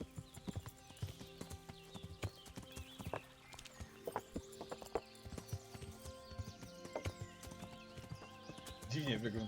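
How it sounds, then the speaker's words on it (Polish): Horse hooves clip-clop in a steady rhythm during riding in the medieval video game Kingdom Come, with an occasional whinny and a louder burst near the end, while someone talks over the gameplay. "jak ty jedziesz na koniu"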